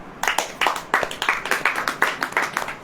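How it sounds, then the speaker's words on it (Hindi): Rhythmic unison clapping from a church congregation during a Hindi sermon, about a dozen sharp, evenly spaced claps in a steady beat, close and clear with no talk over them. "ताली बजाओ।"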